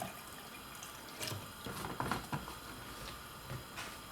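Water from a tap running into a container, filling it with about half a liter, two cups, for homemade coconut milk in a kitchen; a steady, moderately quiet stream with faint gurgles and splashes, no talking.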